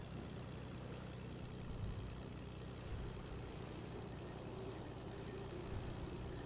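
A plane engine drones steadily in Fortnite, a low, even propeller hum held at moderate volume throughout with no talk over it.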